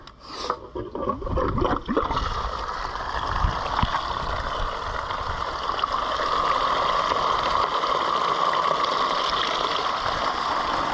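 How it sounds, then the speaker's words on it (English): Steady rushing water pumped through a sluice of a mini high banker for gold prospecting pours and splashes continuously, loud and close, with some clunks and knocks at the start before settling into an even flow. "Water's running nice and clean."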